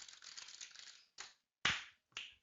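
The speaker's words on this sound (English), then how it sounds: "Typing, talking and typing, talking and typing." Keyboard typing in an office headset test, heard as a burst of rapid clicking followed by a few short, separate clusters of keystrokes with quiet gaps between them.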